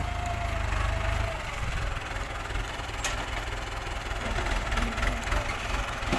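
A two-wheel walking tractor engine idles steadily at close range in a sugarcane field, a continuous low chugging drone with some outdoor background noise.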